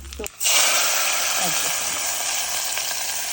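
Asafoetida, chillies, mustard and cumin hit a spoonful of hot oil for a tempering, bursting into a loud, sustained sizzle and hiss after a brief knock, while someone talks over it.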